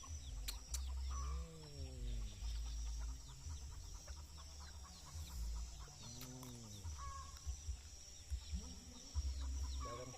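Chickens clucking near an outdoor cooking spot in nature, with several rising and falling bird calls over a steady low rumble and continuous background noise.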